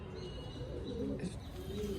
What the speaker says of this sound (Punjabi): ਸ਼ੌਂਕ ਵੀ ਕਰਾ ਦਈਏ ਕਬੂਤਰੀ ਦਾ